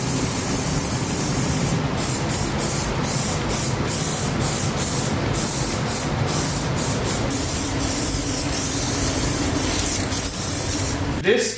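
A spray can lays a coat of paint on a 1965 Mustang, a close, steady hiss broken by short regular pauses between passes, with no talking.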